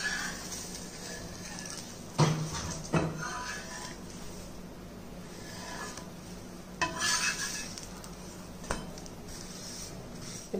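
A wheat rava dosa flipped on a hot pan: a few sharp spatula scrapes and clacks against the metal over a soft steady sizzle, close and without talk.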